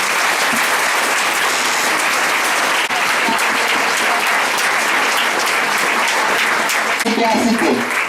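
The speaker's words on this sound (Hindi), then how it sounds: "कई बार प्रभु की महिमा करिए जोरदार ताली से।" A church congregation at a Hindi-language Christian ministry service claps loudly and steadily, a dense, continuous wall of applause filling the whole stretch with no break.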